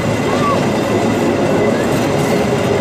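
An Indonesian coal freight train with a locomotive bearing independence-day stickers rolls past on rails with a loud, steady rumble and faint metallic squeals. There are no clear voices.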